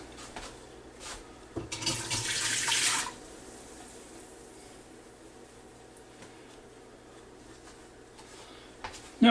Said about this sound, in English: We'll pour it down this Ninja FOODi Deluxe.